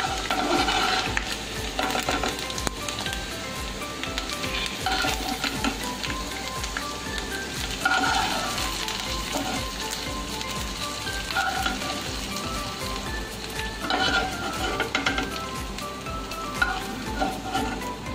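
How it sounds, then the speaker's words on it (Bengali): Grated coconut is stirred and dry-roasted in a pan until golden brown for sambar, giving a steady close scraping and soft crackling sizzle throughout with no talking. "দেখো, নারকেল গোল্ডেন ব্রাউন হচ্ছে, এবার আমি তুলে নেব।"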